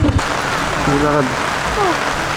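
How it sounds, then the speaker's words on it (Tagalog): Heavy rain pours down on Bohol in the Philippines, a loud, unbroken hiss of falling water with people's voices briefly talking over it. "Lakas ng ulan."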